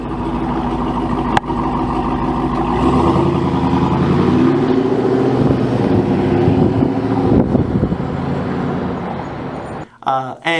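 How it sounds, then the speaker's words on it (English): A 2021 RAM Rebel TRX pickup with a Hellcat V8 and free-flowing exhaust rumbles close by, its engine note swelling and then easing off under wind buffeting, with people talking and a few sharp knocks near the end. "This thing, it sounds like it's got a free-flowing exhaust on it."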